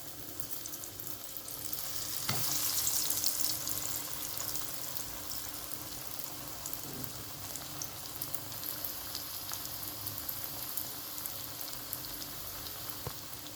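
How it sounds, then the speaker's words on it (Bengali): Bhetki fish pieces for Bengali fish cutlet frying in hot oil, Kolkata street-food style: a steady, dense sizzle and crackle that swells briefly near the start, then holds evenly throughout with no voices. "তেলটা গরম হয়ে গেছে, এবার একটা একটা করে মাছগুলো আমি"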